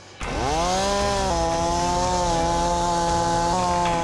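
A chainsaw roars to life and runs steadily at high revs, loud and close, its pitch shifting slightly as the throttle changes.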